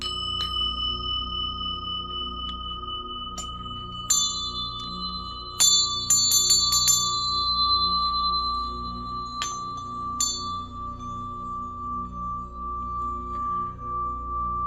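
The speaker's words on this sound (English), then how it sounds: "The Ganta is actually Vajradhara's bell." A Ganta ritual bell rings out with a clear sustained tone over a low background hum, and several bright metallic strikes and shimmering chimes from ring gong bells are scattered across the stretch.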